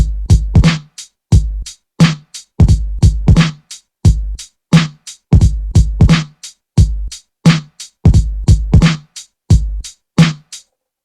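A drum pattern, built from individual kick, snare and hat samples, loops loud and punchy in a steady boom-bap rhythm with no other sounds.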